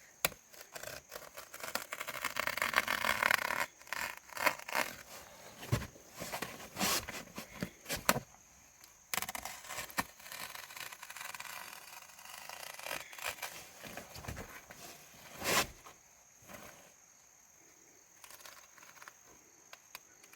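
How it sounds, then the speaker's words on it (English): A knife trims excess canvas from a tiny-home glamping dome, heard as intermittent rough rubbing and slicing strokes, louder at first and then sparser, with short sharp cuts and quiet gaps between them. "use a knife and cut all of that excess canvas off"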